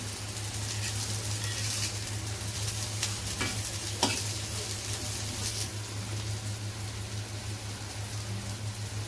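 Paneer frying on a tawa, a continuous sizzle under a low steady hum, with occasional sharp taps of a spatula stirring, no talking.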